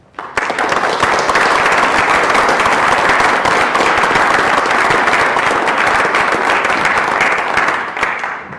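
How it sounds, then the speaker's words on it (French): Sustained, dense applause from a municipal council meeting fills the room steadily for several seconds, loud and close, with no talking over it. "Nous pouvons les applaudir."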